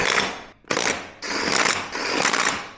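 A torque wrench ratchets in three loud, close bursts of rapid clicking while a John Deere zero-turn mower's wheel is bolted back on, with brief pauses between strokes.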